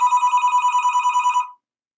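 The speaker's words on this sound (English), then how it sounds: "Rick Webb is calling me right now." A phone rings for an incoming call with a loud, steady electronic trill pulsing quickly for about a second and a half, then stops abruptly into silence.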